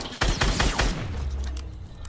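Gunfire in the video game Fortnite: a quick burst of several sharp shots in the first second, then a fading echoing tail.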